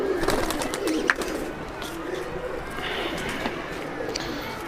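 A female Madrasi pigeon coos in a low, soft burst near the start, followed by quieter murmuring and brief rustles amid background noise.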